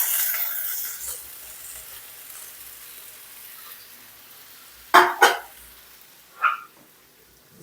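Glass noodles hit a hot pan for a stir-fry with egg, cabbage and wood ear mushroom. A hissing sizzle fades to quiet, then a few sharp clattering bursts from stirring follow.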